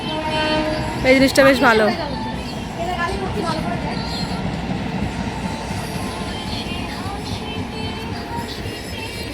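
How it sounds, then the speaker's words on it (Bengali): A train runs past beside a house, a loud rumbling clatter of wheels with a squealing, horn-like burst early on, then a steady rolling roar while a person talks over it. "ওদের বাড়ির পাশ দিয়েই ট্রেন যাচ্ছে"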